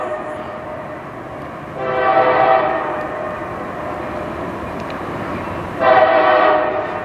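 Norfolk Southern freight manifest train led by locomotive NS 6300 approaching at the Fostoria Iron Triangle rail junction, sounding two long, loud horn blasts over a steady rumble of the rolling train.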